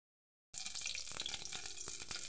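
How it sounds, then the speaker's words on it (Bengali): Fritters made from five kinds of leafy greens fry in oil in a pan, starting abruptly after a short silence into a dense, steady close sizzle with light crackling and no talk. "পাঁচ শাকের বড়াগুলো ভেজে নিচ্ছি"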